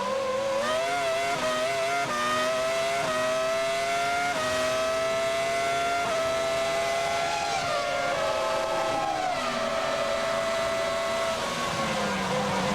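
Formula 1 cars of 1998 accelerating at the Austrian Grand Prix, a loud high-pitched engine whine climbing through repeated gear changes across the whole stretch, with no talk over it.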